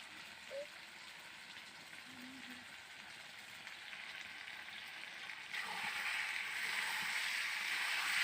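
Chicken kosha cooking in oil in a pan, a steady soft sizzle throughout that grows louder and denser toward the end, with brief faint clinks of stirring and no talk.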